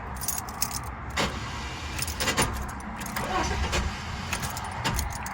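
A 1988 Chevrolet S10 Blazer with a bad starter, keys jangling in the ignition as the engine is cranked in a few short bursts, close by, with no one talking.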